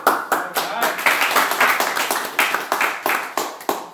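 Sharp hand claps repeat in a quick, somewhat uneven rhythm, close and fairly loud, like a few people clapping rather than a full crowd.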